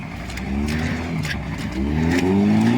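A car engine drones and strains as it lurches through deep potholes, revving unevenly up close, with the tone rising toward the end and faint rattles over the steady rumble.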